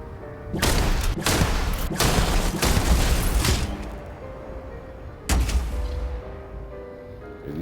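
Heavy rifle shots in the space RPG Starfield, several booming reports in quick succession, then a pause and one more loud shot, with faint background game ambience.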